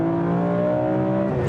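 A BMW E46 M3's naturally aspirated engine revs steadily, its tone climbing smoothly as the revs build, loud and close with no talking.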